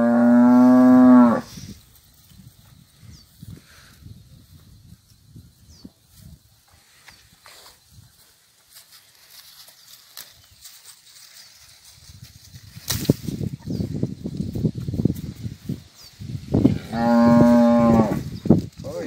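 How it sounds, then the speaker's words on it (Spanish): Cattle moo on a farm, two long, loud lowing calls at the start and end, separated by quieter rustling and muffled movement. "Estamos con las vacas."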